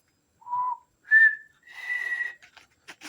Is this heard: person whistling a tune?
yes